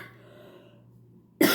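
A single loud, harsh cough bursts out near the end after quiet room tone, from a speaker suffering a persistent cough while preaching.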